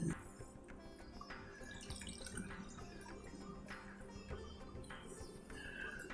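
Water poured from a 3/4 cup measure into dosa batter for koozhu dosai in a home kitchen, a soft trickling and dripping that runs steadily at low level with no talk.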